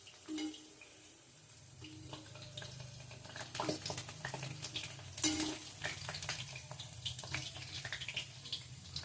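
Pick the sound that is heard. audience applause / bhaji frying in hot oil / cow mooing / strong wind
bhaji frying in hot oil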